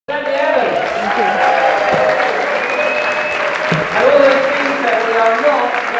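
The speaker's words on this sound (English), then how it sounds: "Ladies and gentlemen, big round of applause." Audience applause at an awareness event in Glastonbury, a sustained loud round of clapping from a crowd that fills the whole stretch, swelling slightly near the end.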